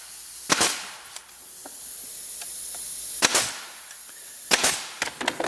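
A nail gun fires sharp pneumatic bursts, each with a hissy snap, while fastening a glued, pre-finished drawer box. There is one shot early, one near the middle and a tight cluster at the end, with faint taps in between.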